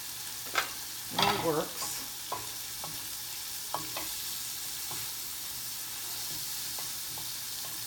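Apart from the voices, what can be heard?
bacon frying in a pan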